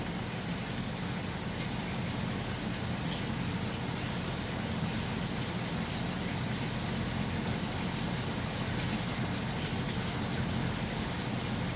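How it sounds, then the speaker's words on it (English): Water splashing steadily from an aquaponics setup with fish and lettuce, a constant even rush of broadband water noise, close and unbroken with no voices. "You can hear the water splashing behind me."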